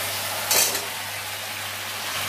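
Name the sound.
potatoes and cauliflower added to frying spice paste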